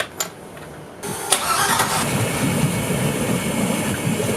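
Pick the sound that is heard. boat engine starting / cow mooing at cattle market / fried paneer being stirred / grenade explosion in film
boat engine starting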